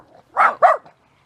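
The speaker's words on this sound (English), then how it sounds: "guard dogs" Guard dogs barking: two sharp, close barks in quick succession, then silence, with no talk.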